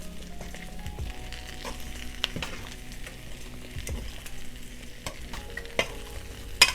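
Browned sausage frying in a pan is stirred, with a low steady sizzle under scattered scraping and clacking strokes of the utensil, close and quiet with no voices.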